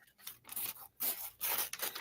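Scissors cut up small paper slips in quick close snips, three or four crisp bursts of slicing and rustling paper, faint and without talk.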